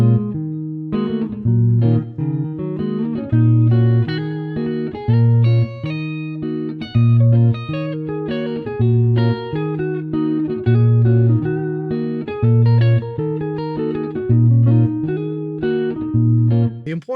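Guitar improvising over the first A section of a tune in 5/4 time, with a steady repeating bass-chord vamp under melodic runs, played close and clean with no talking.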